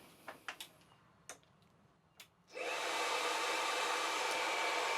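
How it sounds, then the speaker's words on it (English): An air conditioner powered by a BLUETTI Elite 200 V2 power station is switched on: a few soft clicks, then a sudden, steady, loud rush of blowing air that continues to the end. "we're gonna whack the AC on, and let's put it on"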